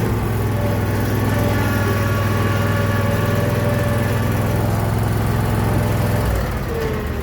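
A Scag lawn mower's engine runs with a loud, steady mid-pitched drone and low rumble close by, dropping off slightly near the end.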